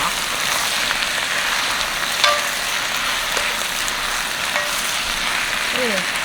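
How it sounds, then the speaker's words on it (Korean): Steady sizzling and crackling of salted gourd (bak namul) stir-frying in a hot pan, with occasional scrapes and clinks of a utensil. "잘 볶아주세요."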